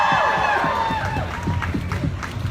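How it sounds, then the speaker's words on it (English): A live audience at an EW PopFest panel with Jared Padalecki and Jensen Ackles breaks into loud, continuous applause mixed with cheers and high whoops, a thick crowd roar that holds steady throughout. "So please, a round of applause."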